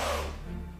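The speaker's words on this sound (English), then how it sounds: "They also do this thing called a snake hiss," A Savannah cat's snake hiss, one short, sharp breathy burst that starts loud and fades quickly, heard close and alone.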